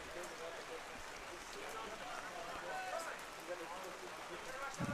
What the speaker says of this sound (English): And the rain has gotten even more aggressive.